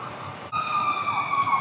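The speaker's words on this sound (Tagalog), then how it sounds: "So kaya maingay po ngayong sirena ngayon." An emergency vehicle siren wails near a busy bus terminal in Pasay while a fire burns nearby, its steady, slowly falling tone loud and close, starting abruptly after a brief background hum.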